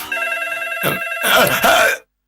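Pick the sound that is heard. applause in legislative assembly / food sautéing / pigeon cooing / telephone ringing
telephone ringing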